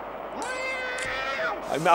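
A cat's drawn-out, wavering meow cries out during a French radio football phone-in, loud and close over background noise, with another brief yowl near the end.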